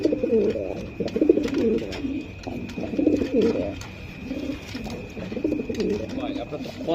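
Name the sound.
racer pigeons cooing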